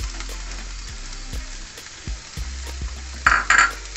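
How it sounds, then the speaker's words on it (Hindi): Chopped capsicum fries with translucent onions in a pan for a quick egg breakfast, producing a soft low sizzle with occasional stirring knocks, then a couple of brighter scraping clatters near the end. "प्याज के ट्रांसलूसेंट होते ही हम इसमें 1/2 कप कटी हुई शिमला मिर्च डाल देंगे"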